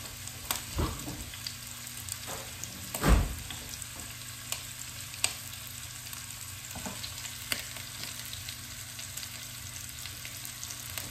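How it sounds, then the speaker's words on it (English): Ground meat sears in a hot pan for egg roll in a bowl, giving a steady close sizzle with a few louder scraping knocks as it is broken up and moved around. "so that it gets a good sear on that side, and then I'll kind of flip it in a little bit."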